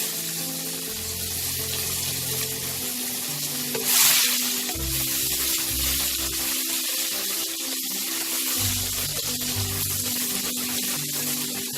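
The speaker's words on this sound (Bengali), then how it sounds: "পেঁয়াজটা আমি লাল করে একটু ভেজে নেব।" Chopped onion frying in hot oil until browned, a steady broad sizzle with occasional stirring scrapes and a brief louder hiss partway through, continuous and close.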